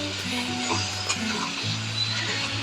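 Ground spices with Kashmiri chili and a pinch of sugar being stirred and sautéed in a pan for a Bengali rohu fish curry with potatoes, a steady close sizzle with scraping stir strokes and a low hum underneath.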